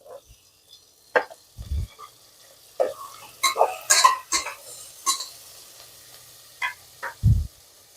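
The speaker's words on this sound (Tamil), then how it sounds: "கொஞ்சம் இந்த காய் வதங்கட்டுருங்க." Beans and mushrooms are sautéed in a pan for vegetable pulao: scattered metallic scrapes and clinks of a spoon stirring against the pan, with a couple of dull thumps and a faint sizzle between them.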